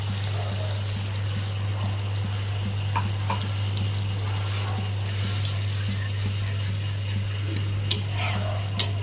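Poppy seed and mustard paste sizzles gently in oil for a cauliflower dish, a soft steady frying hiss with occasional stirring scrapes and taps, over a constant low electrical hum.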